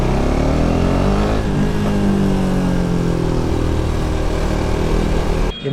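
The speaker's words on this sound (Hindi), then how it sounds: "यहाँ पर बाइक की आवाज़ मस्त गूंज रही है।" A KTM RC 390 motorcycle engine drones loudly and steadily at close range while riding, its note rising and shifting as it revs and echoes off the surroundings, cutting off at the end.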